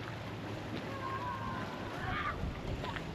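Steady wind buffeting the microphone with a low rumble and broad rushing noise, continuous throughout, on an overcast day at a lake.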